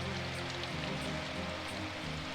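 Rain falls steadily in the visual novel Symphonic Rain, a soft continuous patter of drops over a low musical hum, even and unbroken throughout.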